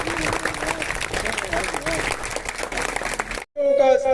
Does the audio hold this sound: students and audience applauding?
yes